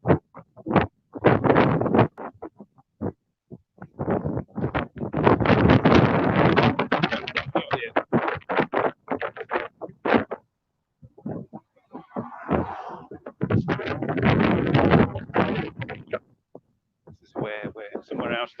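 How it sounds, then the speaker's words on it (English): Gusty wind buffets an outdoor microphone in Bruges, with loud rumbling bursts that come and go in uneven surges and brief lulls. "Windy again."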